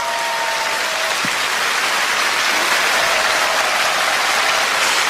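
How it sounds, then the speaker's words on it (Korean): Warm, sustained applause from a church audience welcoming a poet, a dense, even clatter of many hands that keeps up at full strength without a break. "송명희 시인님을 여러분 뜨거운 박수로 맞아주세요."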